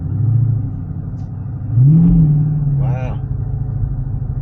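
A Dodge Challenger SRT 392 Scat Pack in sport mode rumbles, then surges with a rising engine roar as it accelerates, heard from inside the car, with a voice exclaiming partway through.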